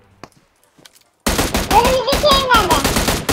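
Rapid automatic gunfire rattles loudly in the mobile battle royale game PUBG Mobile, a dense close burst that erupts suddenly after near silence, with faint tones running through it.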